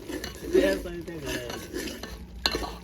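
Masala cooking in a pan while being stirred, with soft scraping and a low sizzle, a brief clink of metal and some faint voices in the background.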